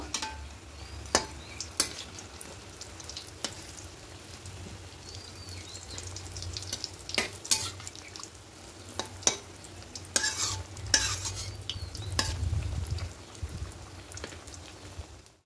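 Fish pieces fry in mustard oil in a wok, a steady close sizzle with scattered sharp crackles and occasional clatters as pieces are turned, with the hiss swelling toward the end.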